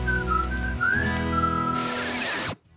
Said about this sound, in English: it ends with a whistle to get stuck in your head